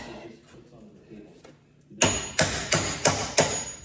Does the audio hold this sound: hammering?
yes